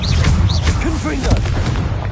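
A Confringo explosion spell in a Hogwarts wizarding video game: a short booming blast with crackling magical whooshes, loud and close, amid other spell effects.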